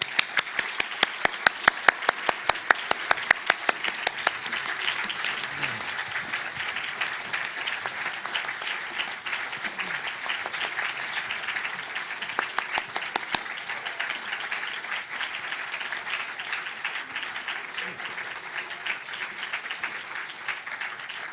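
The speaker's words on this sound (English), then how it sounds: "please put your hands now together and welcome the 2023 Dublin Literary Award winners." An audience at the 2023 Dublin Literary Award event applauds to welcome the winners, with steady, dense clapping that stays loud from start to finish. Sharp individual claps stand out early on, and no one speaks.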